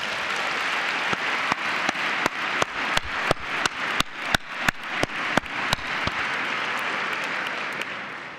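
A large audience at a Teach for America address gives a loud, sustained round of applause. Many sharp individual claps punch through the dense wash, and the sound tapers off near the end.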